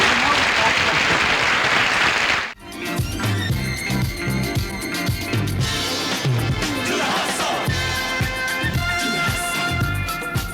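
Applause from an audience in a loud theater: a dense, roaring wash of clapping that briefly cuts out, then a crowd cheer, music and shouting carry on together at full volume.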